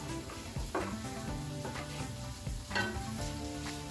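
Capsicum, carrot and green chillies for veg fried rice sizzle over a high flame, a steady loud frying hiss broken by a few rhythmic clanks and scrapes of stirring in the pan, close and without voices.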